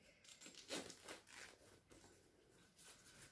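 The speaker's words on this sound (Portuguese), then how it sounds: "coloquem o dedo por dentro e abram o zíper ali." A zipper on a small patchwork fabric coin purse is opened by a finger reaching inside, giving a few quiet scratchy rasps and fabric rustles, close and faint, with no talking.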